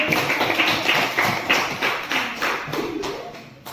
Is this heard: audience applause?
yes